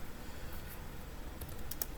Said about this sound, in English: we're going to go ahead and start typing in this section here